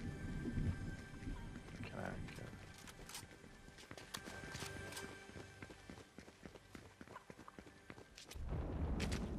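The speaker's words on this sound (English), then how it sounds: "Oh, I heard footsteps." Footsteps in the video game Fortnite, a run of quick, rhythmic steps with scattered sharp clicks under other game noise, ending in a louder rumbling burst.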